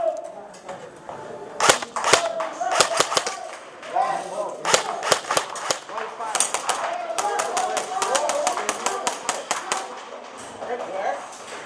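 Airsoft guns fire in an outdoor skirmish with sharp, close popping shots, some single and some in quick bursts, over people talking throughout.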